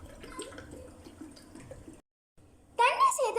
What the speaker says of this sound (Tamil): இதில் 4 கப் போல் தண்ணியை சேர்த்துக்கணும்